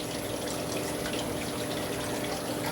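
Water poured out of a bag from a tropical fish order, a steady continuous splashing gush holding level from start to finish with no pauses, close and fairly loud.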